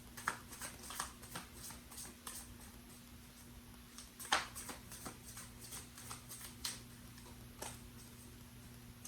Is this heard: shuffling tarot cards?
yes